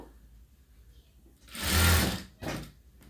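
A sewing machine stitches a boat neck blouse in a single short, loud whirring burst of about a second, close by, with no talking.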